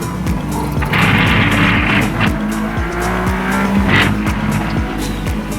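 A supercar is driven hard on a track, its engine roaring loud and close with rapid gear-shift pulses while the tires squeal and skid in long bursts.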